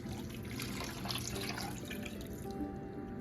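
Chicken broth pours into a cooking pot on a stove in a steady, quiet liquid trickle and splash, faint and continuous without speech.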